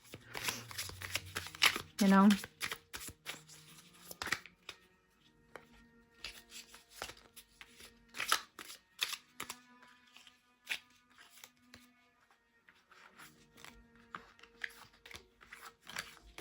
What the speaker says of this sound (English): I wouldn't shuffle them, just overhand.